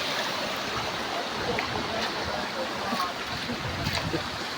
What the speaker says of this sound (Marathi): हे आमचे धबधबे बघा छोटे छोटेसे